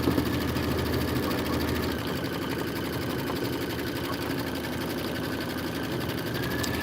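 A quilting sewing machine, a wide long-arm model over 90 inches, stitching a quilt with its inner and outer borders, running as a steady mechanical hum and whir without pause, close and even throughout.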